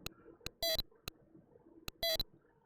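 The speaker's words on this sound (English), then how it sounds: "you just got the sound of the conveyor belt, the beeping of failure that you have" A 1983 Mario Bros. Game & Watch dual-screen LCD handheld sounds its failure alarm: piercing electronic beep bursts repeat twice among sharp ticking clicks, close and clear over faint background noise.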